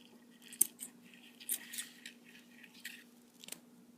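Scissors snip through material cut into strips for a crochet flower scrubby, making a few faint, crisp cuts and crunches spread over a few seconds.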